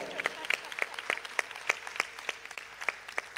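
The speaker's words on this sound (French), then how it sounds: "acclamer très fort Madame Adeline" An audience applauds for Madame Adeline at a forum on human capital and digital technology for Africa: fairly quiet, scattered claps at a steady rhythm through the whole stretch, with no other sound standing out.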